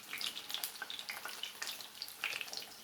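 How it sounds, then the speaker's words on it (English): Previously boiled food, seasoned with ground curry, fries in olive oil over the highest heat, giving a close, steady crackle and spitting sizzle with irregular pops throughout. "now I'm frying them in olive oil"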